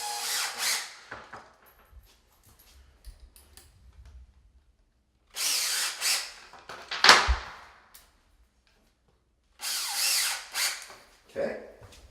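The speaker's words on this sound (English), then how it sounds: "it's easier to pre-start your screws" A power drill pre-starting screws during wall tile layout and dry fitting, three separate whirring bursts of a second or two each with quiet pauses and faint handling noises between them.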